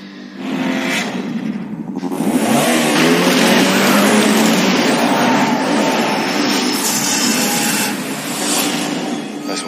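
A car engine revs hard and the car pulls away at a lakeside beach, a loud, steady, close roar that rises and holds with a bright whine on top, then dips slightly near the end. No one speaks.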